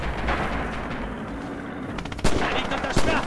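Gunfire and artillery barrage in the Red Orchestra war video game: a dense, continuous rumble of distant shelling and bursts of rapid machine-gun fire, with two louder close shots near the end.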